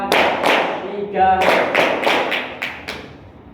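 A group of children claps in rhythm, sharp sets of hand claps in a patterned beat with a brief voice counting between them, fairly close and lively.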